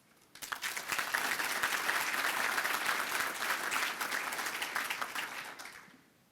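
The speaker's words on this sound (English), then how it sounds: "Please join me in giving George a round of applause" Steady audience applause at a regional chamber economic forecast event, rising quickly to a full, even roar of many hands clapping and tapering off near the end, with no talk over it.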